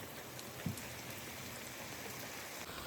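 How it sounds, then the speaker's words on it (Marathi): Heavy rain pours steadily outdoors on a farm plot where chrysanthemum seedlings are being planted among groundnuts, a dense continuous hiss with no voices. "पाऊस धो धो वाटायला लागलाय।"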